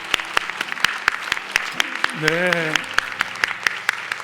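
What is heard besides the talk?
audience applause of encouragement for Hosanna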